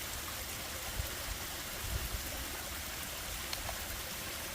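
Rapids in a waterway rush in a steady, even wash of flowing water that stays constant throughout, with no voices.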